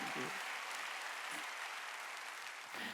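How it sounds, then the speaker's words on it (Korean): Congregation applauding during a Korean church worship service, a steady wash of clapping that fills the whole moment with faint voices mixed in. "박수"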